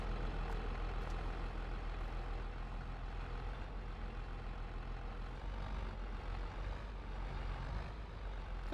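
A trailer tipping its load in Farming Simulator gives a steady low mechanical rumble, like a truck engine working, that drones on evenly throughout at a moderate, constant level.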